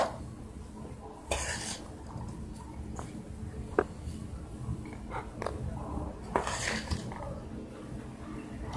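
Coconut, cardamom and jaggery filling for puran poli being stirred in a bowl, giving soft scraping and clinking of a spoon against the bowl with a few sharper knocks, steady and close throughout.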